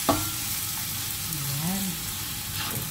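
Garlic sautéing in a pan for a simple home-cooked dish, giving a steady close sizzle with stirring scrapes throughout.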